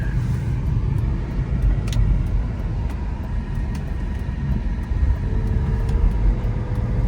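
A BMW 328i accelerates on the road from inside the cabin, a steady low engine drone and road rumble rising slightly, with faint ticks and clicks over the continuous noise.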